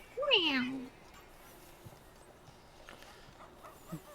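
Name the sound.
kitten meowing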